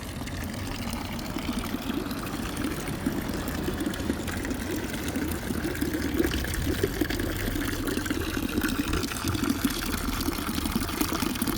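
Spring water runs steadily from a public drinking fountain in Malvern, an ornate spout with a lady holding a Celtic symbol, giving a constant close trickling and splashing wash over a low background rumble, with no talk.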